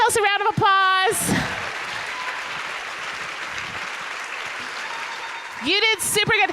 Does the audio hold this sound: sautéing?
no